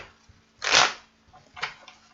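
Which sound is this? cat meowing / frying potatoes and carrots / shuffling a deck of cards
shuffling a deck of cards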